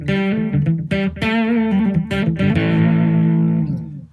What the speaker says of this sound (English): that certainly sounds like your distortion pedal pumped into a clean amp